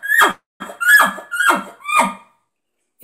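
An elk call imitates elk chuckles, four tight, rapid, squeaky bursts in quick cadence, close and loud, each falling in pitch, followed by silence.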